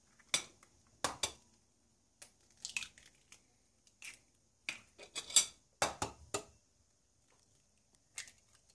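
Eggs cracked one at a time into a small bowl while making Quark balls, giving sharp, close taps and light cracks in irregular bursts separated by quiet gaps, with no talking.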